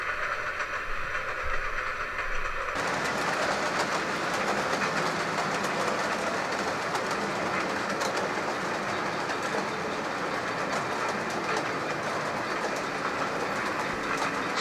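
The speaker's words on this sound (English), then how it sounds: "just waiting for the intercity on the left to leave" Intercity train pulling away past a sugar beet loading station on a Rhineland line: a continuous broadband rumble with faint wheel clatter that swells after a few seconds and holds steady, heard from a distance.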